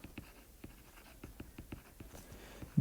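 Chalk or marker strokes on a board during a chemistry lecture, a steady run of short scratchy taps roughly every quarter second, close and moderately quiet, with no talking.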